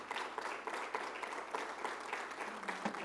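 Congregation applauding during a Spanish-language church doctrinal service, a steady wash of clapping from many hands at moderate distance, continuous for about three seconds with no talk on top.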